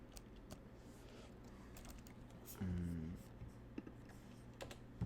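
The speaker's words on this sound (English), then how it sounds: "People could probably hear me typing right now." Soft, irregular clicking of a computer keyboard being typed on, close by, with a brief low hum partway through.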